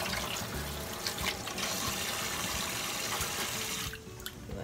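Food rinsed under a running kitchen tap while miso soup is made, a full, steady rush of water into the sink that thins out near the end, close and loud with no talk.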